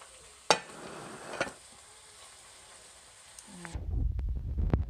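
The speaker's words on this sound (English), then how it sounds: "the garlic has just started sizzling" Soft sizzling and crackling of garlic in a pan, with a couple of sharp clinks early on, then a louder burst of frying near the end.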